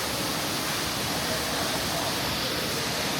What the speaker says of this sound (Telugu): okay, 3 step water fall, Milky by water fall